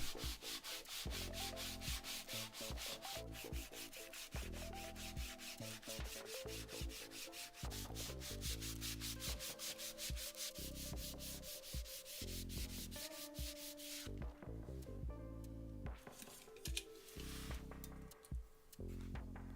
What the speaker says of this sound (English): Then I gave them a hand sanding at 80 grit.